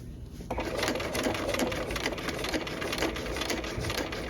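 Sewing machine edge stitching through pocket layers, seam allowances and pocket bag, a steady fast close mechanical whir with rapid rhythmic needle clatter that starts after a brief quieter moment and runs continuously.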